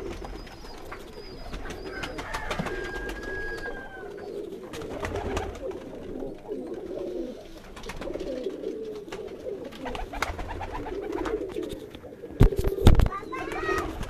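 Teddy pigeons in a rooftop loft coo repeatedly in soft, rolling calls, close by, while someone talks, children's voices sound in the background, and a sharp clatter comes near the end.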